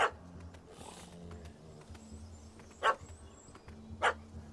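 A dog in The Witcher 3: Hearts of Stone gives three short, sharp vocal bursts, at the start, near the middle and near the end, over a low, steady game ambience.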